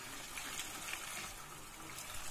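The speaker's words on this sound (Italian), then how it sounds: "Spostati che schizza l'acqua bollentissima" Boiling water bubbling and splashing in a kitchen pot, a steady hissing, churning wash of sound that runs continuously and fairly close, without any voices.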